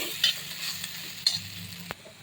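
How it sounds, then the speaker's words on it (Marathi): Spicy potato and vegetable masala stirred in a pan, a spoon scraping and clacking a few times over a soft steady sizzle, with no one speaking. "अधूनमधून भाजी ढवळत राहा।"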